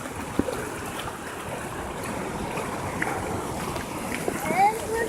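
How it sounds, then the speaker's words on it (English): Floodwater flows through a small flooded town with a constant rushing wash and occasional light splashes, heard at moderate level. "our entire little town here is underwater."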